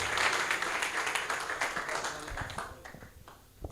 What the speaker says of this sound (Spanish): Le pido un aplauso para el tirador